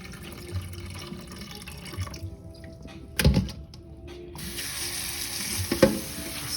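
Raw seaweed is rinsed by hand in a basin of water, giving soft continuous sloshing and trickling with a sharper splash near the middle and another toward the end, all close and moderately quiet.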